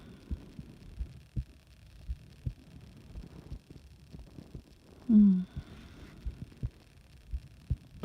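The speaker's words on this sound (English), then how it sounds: "My stomach keeps making all these funny noises." A person's stomach gives one short, loud gurgling rumble close up, rising out of a quiet background of soft, irregular low thumps.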